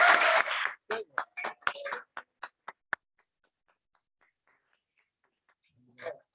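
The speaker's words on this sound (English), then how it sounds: "Let's give Dr. Lee a round of applause for presenting" A short burst of audience clapping after a presentation, starting dense then thinning into a few scattered claps that stop within three seconds, followed by near silence and a faint voice at the end.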